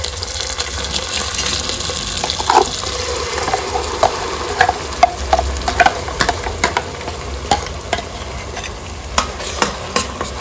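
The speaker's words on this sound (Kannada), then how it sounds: "ರುಬ್ಬಿದ ಮಸಾಲೆಯನ್ನು ಸೇರಿಸ್ಕೊಳ್ಳೋಣ." Ground masala stirred into sizzling onions and curry leaves in a pan for basa fish curry, frying with a steady crackle and scattered sharp pops and scrapes of stirring, with no talk.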